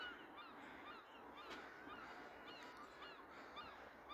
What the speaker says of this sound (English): Some cute little ducks.